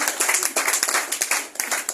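An audience claps together in a lecture hall, a dense run of sharp, fairly loud hand claps with a quick uneven rhythm that carries on throughout.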